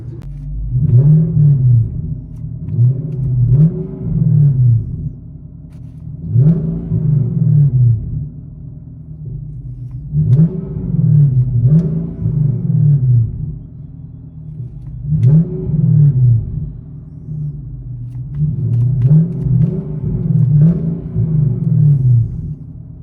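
From inside the cabin, a 2007 Infiniti M45 4.5L V8 with no cats and a Jones exhaust is revved repeatedly in paired and single blips over a steady low idle, full and booming but slightly muffled.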